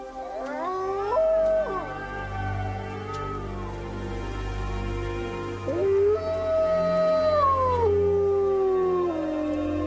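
Several wolves howl together at night, long rising and falling wails overlapping in a chorus, fairly near and clear against a quiet background.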